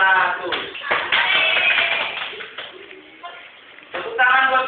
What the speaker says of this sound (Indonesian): Tepuk tangan buat penonton